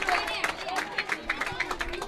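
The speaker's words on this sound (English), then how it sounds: "Rapturous applause from the Anandian faithful here at Rajagiriya" Ananda College supporters in a schools rugby league crowd at Rajagiriya clap and cheer in scattered bursts, with a steady hum of crowd chatter and voices underneath.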